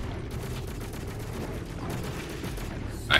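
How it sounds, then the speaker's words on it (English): Gunfire in the first-person shooter Doom Eternal, rapid continuous shots forming a dense, steady barrage at moderate loudness, with a brief louder burst at the very end. "I hear gunfire."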